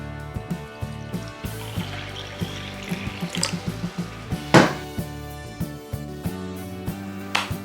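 Water is poured into an instant Jiro-style ramen cup from 7-Eleven in Japan, heard as a steady trickle with drips and light clinks under soft background music, close and moderately quiet.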